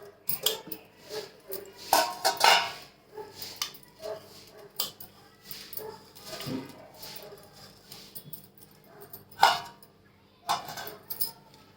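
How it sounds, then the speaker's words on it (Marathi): A mixer grinder jar is picked up and handled in a home kitchen while rice is prepared for grinding, giving scattered close clinks and knocks of hard containers in uneven bursts. No one speaks. "मिक्सरचा भांडं घेतलं"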